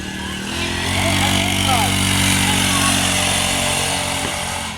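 A small mini bike engine drones steadily close by as a rider does laps, a loud buzzing whine that holds without a break the whole time.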